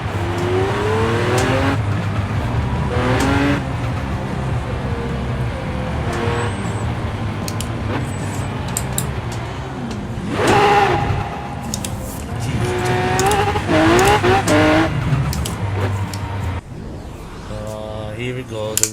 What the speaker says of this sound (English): That's so much power from them turbos, and you can actually hear them through.